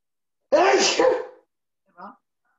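A single loud, close sneeze bursts out, followed a moment later by a brief, quieter vocal sound.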